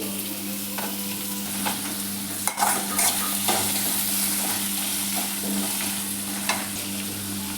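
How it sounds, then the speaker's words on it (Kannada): Chopped onion and garlic fry in about three spoons of oil in a pan for a festival meal, giving a steady close sizzle with a few soft stirring clinks and no voices. "ಈರುಳ್ಳಿ ಎಲ್ಲ ಚೆನ್ನಾಗಿ ಫ್ರೈ ಆಗಲಿ"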